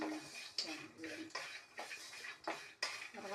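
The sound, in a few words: roasting almonds and peanuts in a pan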